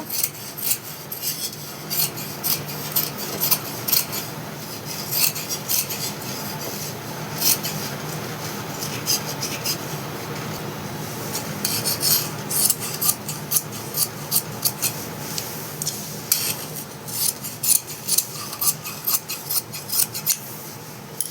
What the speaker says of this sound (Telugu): ఇదిగో చూడండి నేను కట్ చేస్తున్నాను